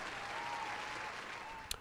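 A crowd breaks into sustained applause, dense and even, with clapping filling the whole stretch before it begins to thin at the end.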